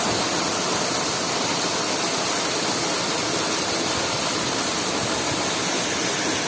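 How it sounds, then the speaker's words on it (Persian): Waterfall in the Estarkhi area, a steady, dense roar of falling water that stays loud and unbroken throughout, close by and alone, with no voices. "آبشار"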